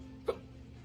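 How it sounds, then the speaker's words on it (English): A single sharp hiccup from a person, brief and close, over a low steady room background. "these hiccups are crazy"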